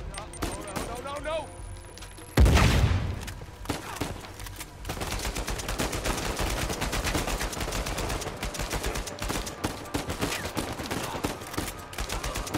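A shotgun blast in Uncharted 4 lands as one loud, sharp boom about a third of the way in, followed by continuous rapid gunfire and clatter; a voice talks in the background.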